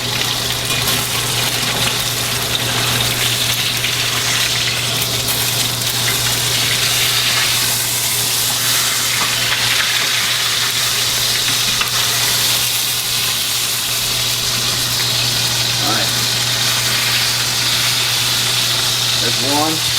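Cordon bleu fries in a pan with a steady, loud sizzle that runs unbroken throughout, with a constant low hum underneath and someone talking over it.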